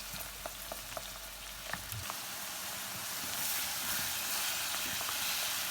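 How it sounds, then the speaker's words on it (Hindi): Chicken mince (keema) frying in oil gives a steady, close sizzle with a few sharp crackles and pops early on. The hiss swells a little louder toward the end. "ये कीमा हमारा फ्राई हो गया, ऑयल छोड़ दिया इसमें"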